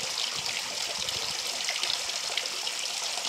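Mineral spring water pours nonstop from a tapless public spout in the resort town of Hisarya, making a steady, close splashing and trickling rush that continues evenly without any talking.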